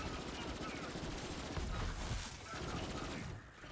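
Sustained automatic gunfire in the video game Borderlands 3, dense rapid bursts running continuously and loudly, then easing briefly toward the end.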